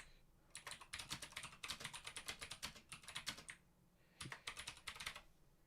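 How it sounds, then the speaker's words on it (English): Bursts of clicky keyboard typing, rapid keystrokes in quick runs with a short pause before another flurry, close and fairly quiet. "you're gonna hear my clicky keyboard"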